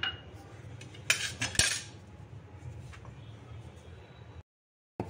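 Green chilies, peanuts, garlic, salt and coriander are pounded in a mortar for thecha, making sharp close knocks and scraping clatter, a few louder strikes early on, then a brief silence near the end.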